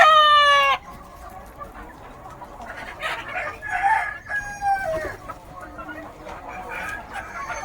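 Village chickens heading into their shed at dusk cluck and chatter nearby, starting with a loud rooster crow that breaks off, followed by scattered clucks and calls over quiet background.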